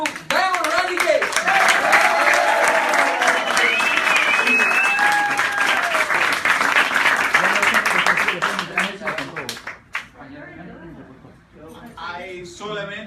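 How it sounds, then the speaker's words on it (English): Loud, dense applause from a conference audience welcoming a network marketing speaker to the stage, with cheering voices mixed in; it swells steadily for about ten seconds, then thins out and fades as talking resumes. "let's give a big applause to Diamond Randy Gage"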